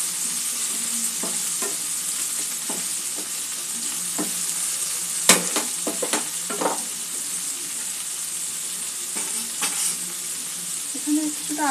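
Ground turmeric, chilli and cumin hiss and sizzle in hot oil in a pan for kantola with green mango, under a steady frying crackle with intermittent utensil scrapes and one sharp knock midway; close, no talking.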